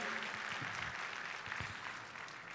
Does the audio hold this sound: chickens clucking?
no